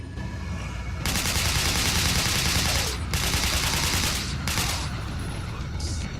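TMP submachine gun in Resident Evil 4 firing in long, rapid, loud bursts with brief pauses between them, close and dominant over faint background game sound.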